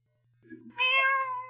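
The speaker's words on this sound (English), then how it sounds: "What place does that cat come from?" A cat in a radio drama gives a short, clear meow that rises sharply and then trails off, heard alone over a low steady hum.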